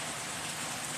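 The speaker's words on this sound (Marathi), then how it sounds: "कालपासून आमच्या इथे इतका छान पाऊस होतो आहे" Rain falls steadily outside with an even, dense hiss and no breaks, heard briefly and with no voices.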